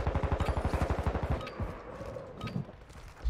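Fast automatic gunfire in Call of Duty Warzone 2.0, a loud rhythmic burst of shots for over a second, then quieter rumbling and distant noise.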